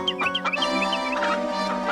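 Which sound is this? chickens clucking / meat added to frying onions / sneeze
chickens clucking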